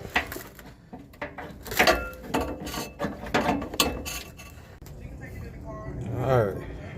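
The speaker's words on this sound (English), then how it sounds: "Jack it up." A jack raising a 2002 Ford F150 5.4 2WD pickup, giving repeated ratcheting mechanical clicks and clunks in irregular bursts, close by, with someone talking over parts of it.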